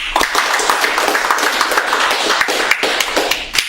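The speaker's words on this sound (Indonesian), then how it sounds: "Tepuk tangan dulu tuh ya" Audience in a hall clapping after remarks about the Indonesian feature film "Believe", a dense, steady patter of many hands, fairly loud and close, with a few sharper claps standing out over about four seconds.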